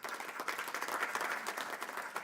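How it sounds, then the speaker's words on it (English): Applause from the University of Johannesburg community at a stakeholder report launch, a lively burst of many individual claps with audible separate hand strikes, fairly close and steady. "please give yourself a round of applause"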